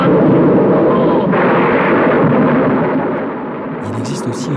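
A rumbling, crackling thunderstorm from the 1930 Frankenstein film, heavy and continuous before slowly fading, with faint voices entering at the end.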